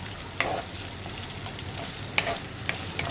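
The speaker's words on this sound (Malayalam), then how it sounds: "ഇനി സവോള ഒന്ന് ഇളക്കി നന്നായി കുക്കായി വരുന്നത് വരെ ഇളക്കിക്കൊണ്ടിരിക്കുക." Sliced onions with curry leaves fry in a pan for a Kerala bitter gourd curry, giving a soft, faint sizzle broken by a few sharp scrapes and clinks of a spoon stirring.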